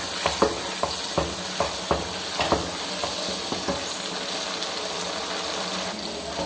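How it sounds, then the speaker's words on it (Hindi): Ginger garlic paste sizzles and frying steadily in a pan for chicken jalfrezi, a constant hiss broken by a run of sharp scraping stirs near the start that thin out later; no talk. "इसके बाद अदरक लहसुन का पेस्ट डाल देंगे और इसे अच्छी तरह मिक्स कर लेंगे"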